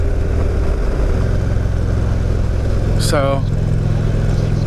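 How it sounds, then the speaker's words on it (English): A 2016 Indian Roadmaster motorcycle engine runs at full throttle in sixth gear, a steady low drone with wind rush throughout; a brief rising whistle-like tone cuts in near the end as someone talks over it. "that was full throttle in 6th gear and nothing happened"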